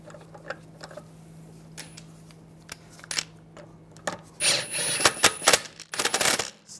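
Short metallic clicks and rattles as a lug bolt is threaded by hand into the rear wheel hub of a 2006-2009 Mercedes-Benz E350, quiet at first, then a busier cluster of ticks and scrapes close by.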